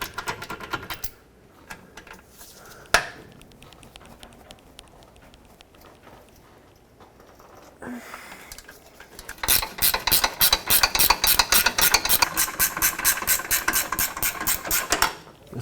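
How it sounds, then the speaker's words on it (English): Rapid ratcheting clicks from a hand tool working 18mm bolts on the front lower control arm of a 2001-2007 Volvo V70, in a tight space, near and steady in the last stretch after quieter handling noises and a sharp knock. "So now let's unbolt these 2 bolts over here. 18mm headed bolt."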